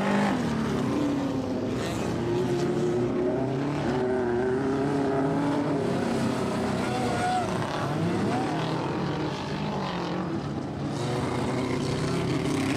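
Vintage speedcar racing down the main straight at Archerfield Speedway, a steady loud engine drone with shifting pitch that holds throughout, along with other engine noise and a little talk.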